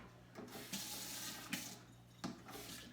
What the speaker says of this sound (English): Then we go back to the sink for a little bit of water.